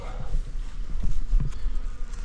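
Bees from a hive built inside a chimney on a steep roof give a low, steady buzzing drone close by, with faint scattered knocks and rustles over it.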